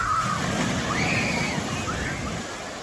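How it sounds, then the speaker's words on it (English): Water from a shoot-the-chutes boat ride at Busch Gardens Williamsburg rushes and sloshes in a continuous loud wash, steady throughout with a slight easing toward the end. "not the best splash, but like you see right here."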